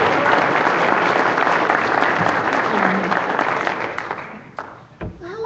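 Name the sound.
audience applause for speaker JoAnn Fleming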